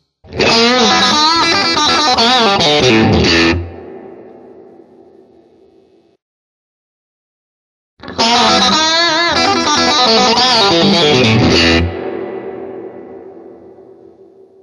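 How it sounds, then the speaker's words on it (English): A Vox AC30 guitar amp with its spring reverb sounds out two loud strummed guitar passages, each followed by a long, shimmering reverb tail that decays into silence. "The AC30 spring reverb allows full control of the reverb for both channels."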